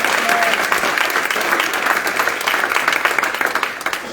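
A church congregation at a French-language service claps in loud, sustained applause. It stays dense and steady throughout, with crowd voices mixed in.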